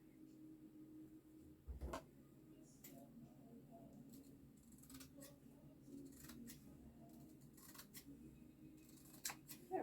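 Scissors snipping through black material, a handful of sharp, quiet clicks and crisp cuts spaced irregularly over a low background hum, close to the microphone.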